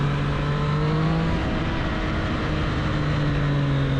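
A 2023 Triumph Street Triple 765 RS ridden in the rain, its engine holding a steady, droning note under a constant rush of wind and road noise, close and loud throughout.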